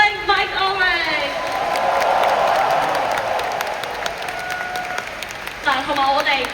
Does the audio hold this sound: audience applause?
yes